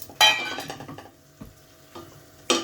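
Spice powders and salt dropped into hot oil for a Maharashtrian chicken curry, giving a short burst of sizzle followed by quieter spoon clinks and a second brief sizzle at the end.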